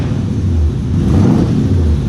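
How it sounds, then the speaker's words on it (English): Supercharged Ford Crown Victoria engine fitted with new mufflers and an H-pipe, a deep, steady rumbling idle with a low throb and faint whir, close and continuous. "Finally, you can hear that blower again."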